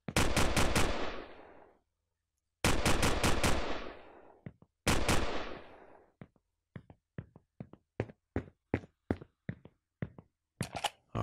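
Video game gunfire: three long automatic bursts with decaying tails, then a run of single sharp shots evenly spaced, loud and close with no talk over them.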